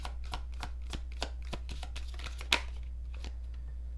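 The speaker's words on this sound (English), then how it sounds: "I want the cards to like fall. I'm gonna give it another shuffle." A deck of tarot cards is riffled and shuffled by hand during a card reading, giving a quiet, close series of rapid papery flicks and snaps in an uneven rhythm, with one sharper slap partway through.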